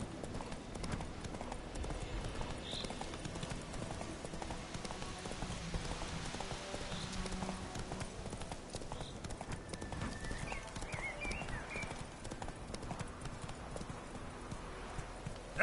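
Roach the horse galloping in The Witcher 3, with rapid rhythmic hoofbeats going on throughout, moderately quiet, and a brief whinny and some background ambience along the way.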